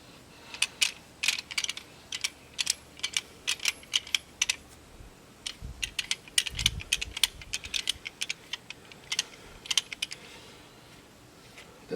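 A torque wrench is wound back to zero after tightening, giving a long run of small, irregular mechanical clicks and ratcheting ticks, close by and fairly quiet.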